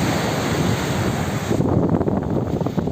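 Sea waves wash in at a seaside campsite in Mersin, a loud continuous surf roar with heavy wind buffeting the microphone and no voices.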